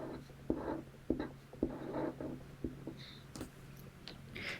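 A pen writes on paper up close, with quiet scratching strokes and soft taps at a steady rhythm, faint and without talk.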